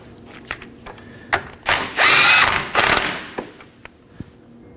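Power tool snugging a 19mm nut on the rear lower forward control arm of a 2016-2020 Kia Sorento, heard as one short, loud mechanical whir with a brief second burst and a few faint clicks around it.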